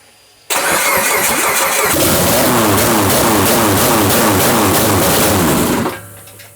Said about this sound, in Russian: Мотор запустился, мотор работает.